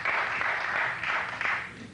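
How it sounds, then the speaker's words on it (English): Studio audience applause from a 1980s late-night talk show taping, a steady wash of clapping filling the room for the whole stretch with no talk over it. "I get the applause now."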